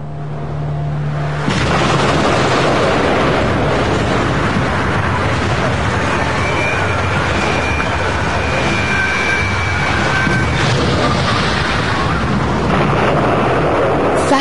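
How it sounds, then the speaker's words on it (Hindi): The Fat Man atomic bomb detonates over Nagasaki: a sudden, massive roar bursts in after a brief quiet and rumbles on loudly and continuously. "फैटमैन में विस्फोट हुआ।"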